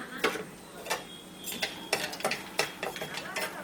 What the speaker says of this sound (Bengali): কাঁচা বাদামগুলো ভেজে নিচ্ছি